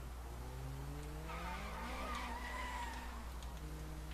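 Car in the video game Sleeping Dogs driving and skidding, engine tones climbing through gears under a sustained tire squeal, steady and close with no talk.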